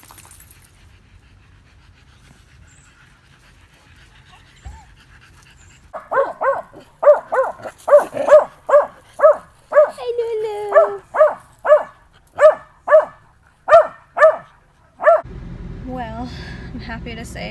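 Dogs at a kennel give a long run of sharp, evenly spaced barks close by, with panting and whimpering around them and a person talking in the background.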